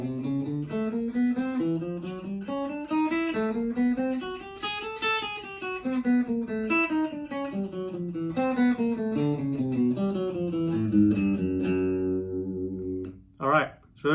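A plucked guitar runs a stepwise finger pattern up and then back down, single notes in a steady rhythm, ending with a few sharp string noises.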